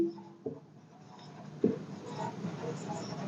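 Words are written on a board during a language lesson, giving faint scratchy strokes and a couple of sharper taps in a quiet room.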